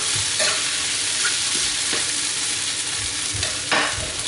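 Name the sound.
potatoes frying in a pan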